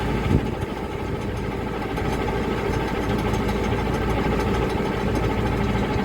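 A 6480 tractor engine idles steadily at close range, a constant low rumble with a faint knocking texture and no change in pace.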